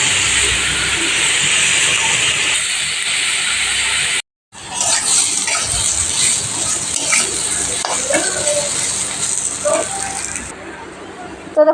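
Three pieces of leftover fish in the previous day's fish oil being reheated in a pan give a steady, close sizzling hiss; the sound cuts out briefly, then returns with stirring clatter and occasional voices.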